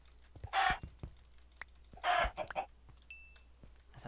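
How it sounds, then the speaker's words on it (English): Two clear bursts of clucking from chickens in a Minecraft-style survival game, a second and a half apart, moderately loud against quiet game ambience, with a brief chime near the end. "More chickens."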